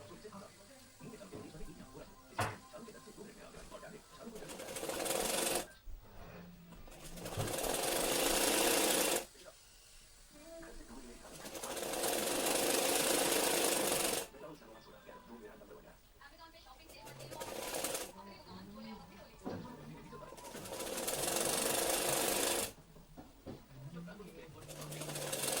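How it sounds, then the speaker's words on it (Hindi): A sewing machine stitches the folded sleeves of a gown in several sustained runs, each lasting a few seconds, separated by short pauses. Faint background sounds and a voice fill the gaps. "फर्स्टली ये देखो इसे फोल्ड करके सिलाई लगा लेंगे दोनों हाथों को।"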